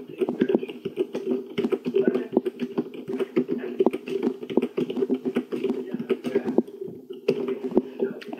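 Rapid typing on a computer keyboard, a dense, close patter of key clicks running steadily for eight seconds beneath someone talking.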